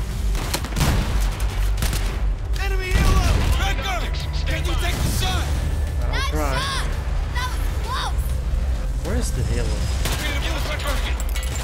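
A grenade blast goes off amid continuous loud gunfire in the Battlefield 4 single-player campaign, with booming impacts and shouting voices layered over the dense battle noise throughout.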